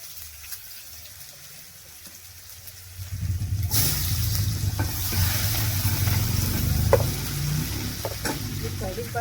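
Cumin and garlic hit hot oil on a chulha stove, quiet at first, then a loud sustained sizzle and crackle sets in midway with occasional stirring clinks.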